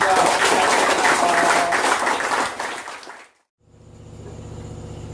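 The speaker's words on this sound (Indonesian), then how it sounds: "Tepuk tangan" An audience at an Independence Day special event breaks into loud, dense applause that holds for about three seconds, then fades quickly to near silence before a low hum of room noise returns.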